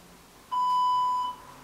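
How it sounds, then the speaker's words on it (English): A workout interval timer gives one clear, steady electronic beep of just under a second as it starts, loud and alone in a quiet room. "I'm gonna press my timer on and we can start."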